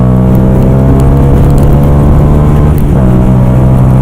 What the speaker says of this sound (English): It sounds so good as well with that abrasive exhaust.